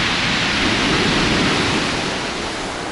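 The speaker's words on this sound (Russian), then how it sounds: "Ой, какие сильные волны." Strong sea waves crash against the foot of a cliff, a loud sustained roar of surf and spray filling the air without break.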